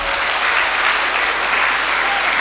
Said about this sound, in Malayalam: അതുകൊണ്ട് അദ്ദേഹത്തിനൊരു കൈയടി കൊടുക്കാൻ ഞാൻ ആഗ്രഹിക്കുന്നു